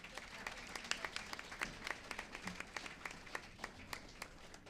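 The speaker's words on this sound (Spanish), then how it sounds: "Un fuerte aplauso." Audience at a panel event in Sonora applauding steadily, a dense patter of many hands clapping at moderate distance, with a faint voice or two mixed in underneath.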